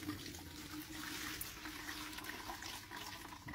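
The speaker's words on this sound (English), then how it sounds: "I'm going to pour a lot more water through this." Water poured steadily through a screen while processing computer RAM BGA chips for gold, a continuous close splashing wash with no talking.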